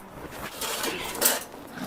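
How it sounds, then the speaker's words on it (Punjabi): Dishes, pots and utensils clattering while being washed, a few faint clinks and scrapes of metal and crockery in a continuous quiet wash of sound. "ਮੈਂ ਮਾਜ ਦਨੀ ਆ ਭਾਂਡੇ"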